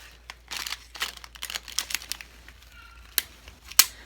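Close, crisp snips and rustling as craft scissors cut through stiff artificial flowers, irregular crunchy clips with two sharp louder snaps near the end.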